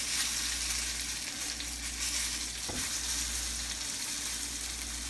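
A reverse-seared T-bone steak sizzling steadily in a hot pan as its fat renders, a dense, continuous crackle with one brief clunk partway through, no talking.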